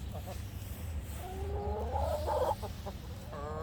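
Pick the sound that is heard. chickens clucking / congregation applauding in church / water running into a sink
chickens clucking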